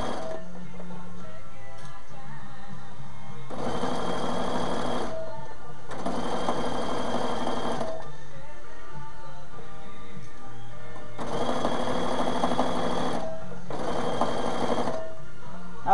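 A sewing machine stitches an ironing board cover in four distinct runs of fast, even mechanical whirring, each lasting one to two seconds, separated by quieter pauses with soft handling noise; it is close and clear, with no talk.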